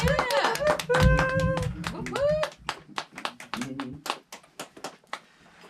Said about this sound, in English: Clap for Gage.